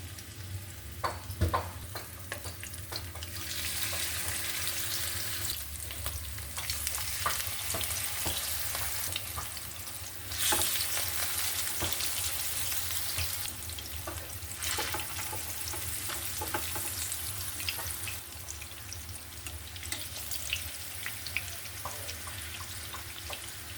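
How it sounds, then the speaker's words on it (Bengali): Hilsa fish fries in hot oil in a home kitchen pan, a continuous close, loud sizzle and crackle that swells and eases as the pieces are moved, with occasional clinks and stirring. "তেল দিয়ে দিচ্ছি প্রথমে আমি মাছটা ভেজে নেব"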